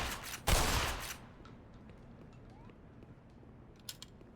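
Bomb blast and gunfire in the Black Mesa video game: one loud crackling burst of explosion and shots at the start, then a low rumbling background with faint mechanical clicks and a couple of small distant pops.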